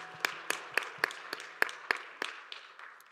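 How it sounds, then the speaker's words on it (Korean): A church congregation of young adults claps together during a Sunday worship service, about ten separate claps spread over three seconds in a loose, uneven rhythm, close and fairly quiet with no voices. "서로를 격려하면서 박수하겠습니다."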